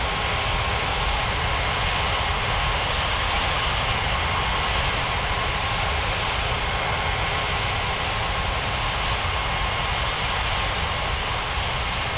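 Aircraft engines droning steadily during taxi in an air traffic control game, a constant broad roar with no distinct events, fairly loud, no voices.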